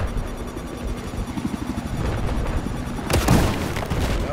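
In the video game Battlefield 4, a vehicle blows up with a sudden loud boom that cuts through the dull rumbling of combat.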